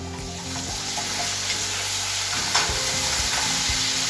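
Garlic sizzling loudly in a pan with Italian salad dressing, a steady close hiss of frying with occasional pops and utensil scrapes.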